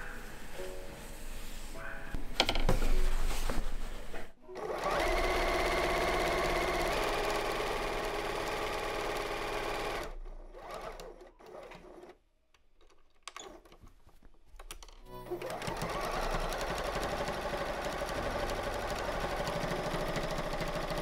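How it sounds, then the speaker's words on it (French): A sewing machine sews a straight-stitch seam all the way around to close the opening of a fabric toothbrush pouch with a strap. The motor hums steadily in long runs, broken by a short pause with brief stops and starts. "réaliser une couture au point droit tout autour"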